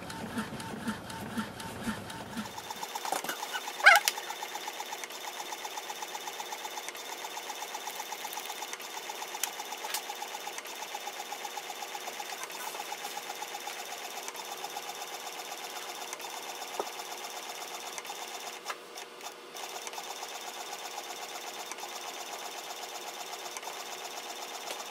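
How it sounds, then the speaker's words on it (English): An Epson EcoTank ET-3830 inkjet printer prints with a steady, rapid mechanical chatter and whir, close and continuous, with a brief change in pitch near the end. "copy, print and scan with this printer"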